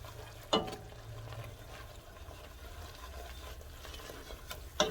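Flour and butter being whisked together in a pan while cooking for a béchamel sauce for pastitsio, with soft continuous scraping and stirring, a low hum underneath and a couple of sharper clicks against the pan.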